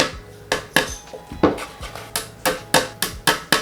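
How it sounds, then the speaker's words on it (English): A hammer drives wooden dowels into pre-drilled holes in a bookshelf closet board, with sharp woody knocks in a steady, quickening series of about a dozen blows, close and loud, with no talking. "you're gonna put the dowels in using a hammer"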